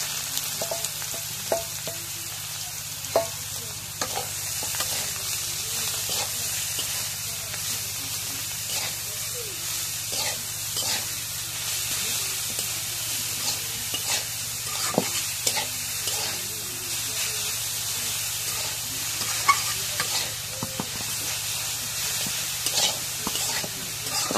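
Leafy greens stir-fried in a pan after onion and garlic, a continuous sizzling hiss with frequent scraping and tapping of a utensil, steady and close for over twenty seconds, with faint speech at times.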